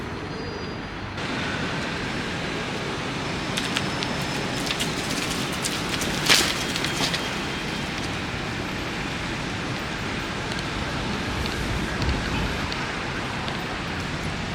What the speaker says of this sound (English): It's really very, very windy suddenly.